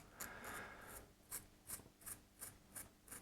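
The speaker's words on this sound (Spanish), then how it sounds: "Estos agujeros un pelín más grande, así como estáis viendo, con la cola de ratón, para que entre bien." A rat-tail file rasps at holes in a slot car body, a few strokes followed by a run of short, evenly spaced scrapes, close and crisp.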